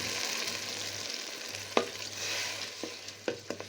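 Onions and meat frying in a pan for a green bean stew, a continuous close sizzle with a few sharp utensil knocks and scrapes toward the end.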